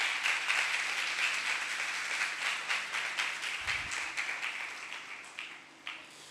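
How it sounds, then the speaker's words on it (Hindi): A church congregation applauds loudly at a Hindi-language worship service. The dense clapping gradually thins into scattered, rhythmic claps that fade over several seconds. "जोरदार तालियां बजाइए"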